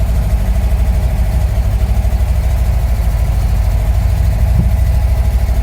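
A 1990 LuAZ 969M engine idles steadily with a low, throbbing rumble and faint vibration, constant and close throughout.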